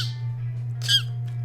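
A person's voice imitates a cheetah's chirp, giving one short, high, squeaky rasping call partway through over a steady low hum.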